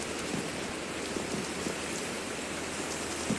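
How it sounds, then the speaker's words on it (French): Steady rain hissing evenly throughout, a dense wash of drops with no pauses or talk, like downpour ambience in Minecraft. "Ah ouais, il pleut."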